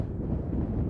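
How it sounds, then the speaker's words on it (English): Strong wind buffets the microphone near Grad Castle in Slovenia, producing a steady, loud low rumble for a brief moment with no voices. "Really, really windy coming through here."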